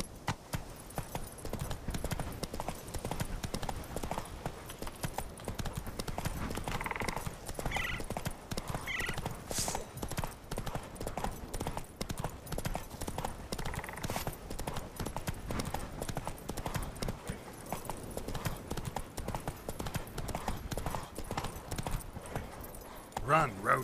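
Horse galloping in the video game The Witcher 3: Wild Hunt, rapid rhythmic hoofbeats throughout with occasional snorts and whinnies, under spoken dialogue.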